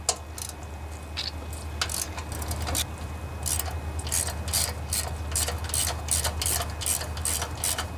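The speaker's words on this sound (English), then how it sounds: "if you go with a long socket like this, they're a little bit thinner outer circumference." A ratchet wrench clicks steadily while turning a long 3/8 socket on a Briggs and Stratton 19.5 twin-cylinder engine, a close, brisk series of sharp mechanical ticks with no talking.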